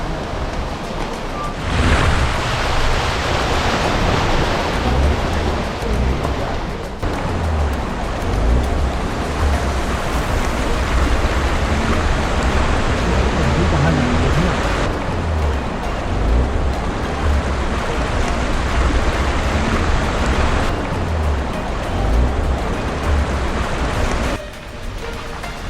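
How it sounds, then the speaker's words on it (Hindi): A flood-swollen stream near Corbett rushes past close by, a loud, continuous broadband roar of flowing water with shifting surges and gusty rumble, no voices over it. "So this is the stream guys, the final stream that we need to cross"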